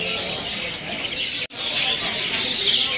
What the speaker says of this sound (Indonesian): Di sini ada juga burung perkutut putih ya.